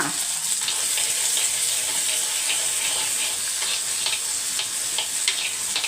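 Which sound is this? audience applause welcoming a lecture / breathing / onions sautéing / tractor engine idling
onions sautéing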